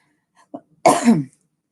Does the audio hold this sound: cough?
yes